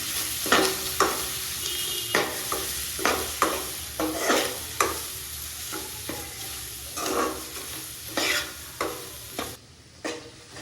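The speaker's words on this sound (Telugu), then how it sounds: "మసాలా గరం మసాలా ఫ్రెండ్స్ ఇట్లంతా మిక్స్ చేసుకోవాలి" Egg masala stirred and fried in a pan with chili powder and garam masala, giving repeated scraping stirs in a steady rhythm over a continuous close sizzle, with no voices.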